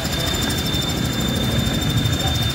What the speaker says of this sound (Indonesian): Nah, perhatikan untuk suara mesinnya.